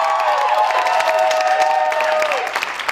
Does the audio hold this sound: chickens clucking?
no